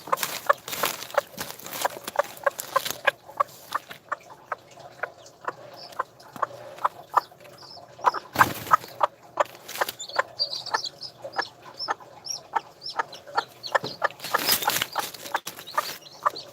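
A broody hen sitting on eggs clucks in distress, a close, steady series of sharp clucks and clicks with a few louder bursts of rustling and flapping, heard alone.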